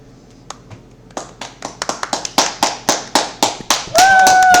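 A speech class claps: a few sharp, separate hand claps gather into a quickening run of loud, close claps, and a voice rises over them at the end.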